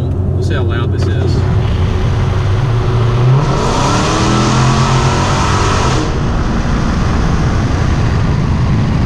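A Dodge Challenger Hellcat engine revs loudly and close, rising in a throaty roar with a rumbling exhaust, then settling back to a steady idle.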